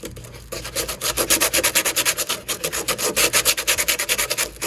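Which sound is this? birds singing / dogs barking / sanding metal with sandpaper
sanding metal with sandpaper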